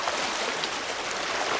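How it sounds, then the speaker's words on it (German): A babbling mill stream flows in a brook, a close, continuous, bright splashing and rushing of water with no voices over it. "Und jetzt das silberhelle Plätschern."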